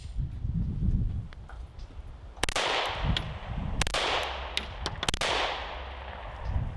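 Several sharp gunshots from an AREX Delta Gen 2 pistol firing Fiocchi 115 grain range ammunition, spaced irregularly and ringing out loud and close over quiet outdoor background.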